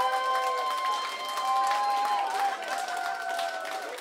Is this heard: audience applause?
yes